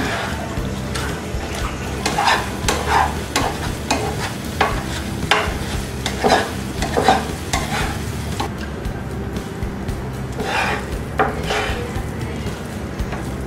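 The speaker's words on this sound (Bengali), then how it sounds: "এভাবে নাড়া দিলে কড়াই লেগে থাকছে না।" A spatula scrapes powdered-milk sandesh mixture with icing sugar around a wok as it fries, giving a steady run of rhythmic strokes and clacks, with faint sizzling beneath and little talk.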